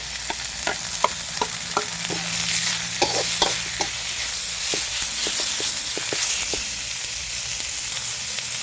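Pork sizzles and stir-fries in hot oil in a pan for Thai basil pork (pad kra pao): a steady hiss of frying, broken by frequent sharp clinks and scrapes of a spatula stirring.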